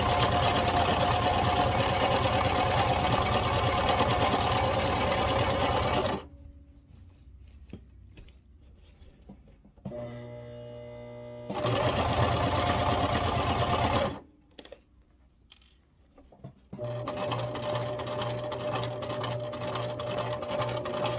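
A sewing machine stitching a hanging kitchen tea towel runs in bursts with a fast mechanical whir, stops, restarts, then pauses again with softer clicks before running steadily once more, close and clear.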